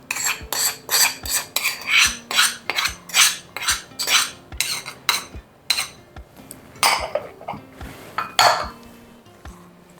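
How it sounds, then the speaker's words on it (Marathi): Tempering oil being mixed into a fresh turmeric and amla pickle, a spoon scraping and clinking briskly against a bowl in repeated, rhythmic strokes, close and clear with no speech. "तर हे छान मिक्स करून घ्यायचं"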